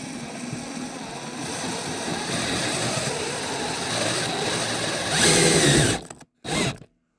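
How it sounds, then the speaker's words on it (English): A power drill whirs steadily for several seconds, rising in pitch as it drives a screw into wood, then stops and gives a brief final burst. "And drill in the rest of them."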